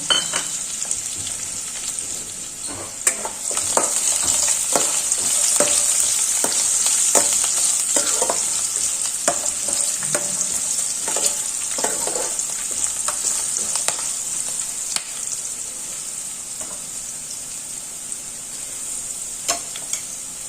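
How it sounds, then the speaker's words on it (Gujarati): Peanuts are sautéed in hot oil for batata poha, giving a bright, continuous sizzle close up, with frequent stirring scrapes and clicks against the pan throughout. "માંડવીના બી લેશું તેને પણ તેલમાં સાથળી લેશું"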